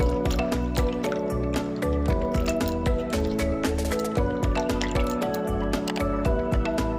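Ripe jujube plums being washed by hand in a bowl of clean water, with steady close splashing, dripping and squishing sounds running throughout and no talking.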